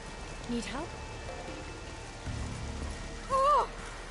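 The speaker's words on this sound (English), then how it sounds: "Oh! It's raining." Rain falls steadily in The Witcher 3, a soft hiss under the game's scattered voices and sound effects.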